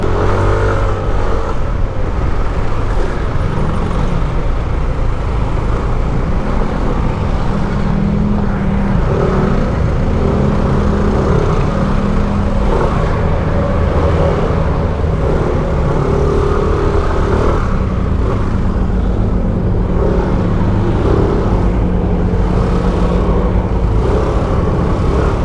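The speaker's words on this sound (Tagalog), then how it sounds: "Grabe po ang traffic dito sa may Camp 7 guys." Heavy bumper-to-bumper road traffic at Camp 7, heard from an Nmax V2 scooter: a dense, continuous rumble of idling and creeping engines with occasional revving, steady and close throughout, with no talk.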